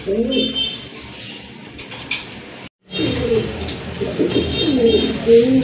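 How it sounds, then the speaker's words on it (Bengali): A pair of large Rajgolla pigeons coo in low, rolling phrases close by, broken by a brief silence midway, with someone speaking over them. "এক জোড়া রাজগোল্লা কবুতর দেখতে পাচ্ছেন, এটা কিন্তু অনেক বড় সাইজের কবুতর"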